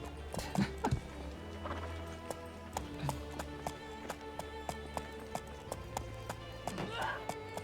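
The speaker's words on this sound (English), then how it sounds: "I'm getting on my horse." Horse hooves clip-clop at a steady trotting rhythm in the medieval game Life is Feudal, regular sharp taps over a low ambient drone.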